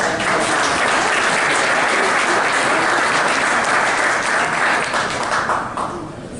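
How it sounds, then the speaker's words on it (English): Sustained audience applause after a county commission candidate debate, a dense steady wash of clapping from a sizeable crowd that holds loud throughout and begins to taper off in the final second. "A round of applause to them."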